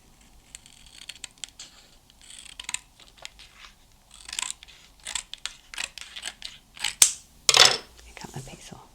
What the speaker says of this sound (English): Cut that piece off.